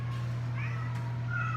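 Cat in a shelter kitten room giving a couple of faint, short meows over a steady electrical hum and room noise, with no speech.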